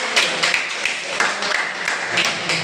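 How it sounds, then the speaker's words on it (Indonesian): Scattered clapping from a classroom audience applauding a student group, uneven and moderately loud, with irregular hand claps spread across the whole moment and no one speaking. "tepuk tangan untuk kelompok 1 juga"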